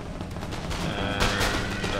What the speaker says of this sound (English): It looks like we started to shoot